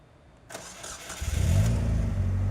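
A 2017 Polaris Slingshot engine cranks briefly with a whirring starter, then catches and settles into a low, steady rumbling idle, close and loud.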